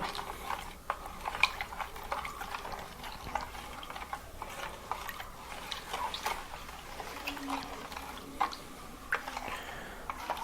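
A tamarind mixture being stirred, giving soft, steady scraping with small irregular clicks and ticks throughout, all at a low, even level.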